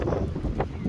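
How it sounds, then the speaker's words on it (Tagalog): Wind blowing outdoors beside a dusty road, a steady low rumble of gusts buffeting the microphone with no voices. "Kaya kahit ganito na may hangin, hindi ko muna nilalabas si Lola."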